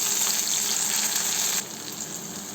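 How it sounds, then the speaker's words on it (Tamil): Tomatoes fry with onion and garlic in a pan, giving a loud, dense sizzle that drops to a softer, steady hiss partway through. "இப்போ எடுத்து வச்சுருக்க தக்காளி பழத்தை இதில் ஆட் பண்ணிக்கலாம்."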